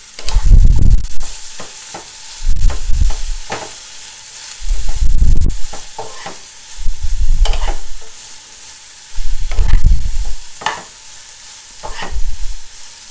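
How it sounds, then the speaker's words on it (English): Onions being stirred in a pan while they cook, with about six loud rhythmic scraping strokes separated by quieter sizzling, close up and with no talking. "We want to give these a stir to get everything incorporated and then just let them hang out."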